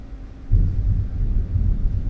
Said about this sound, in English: Y'all can hear that lightning, I guess.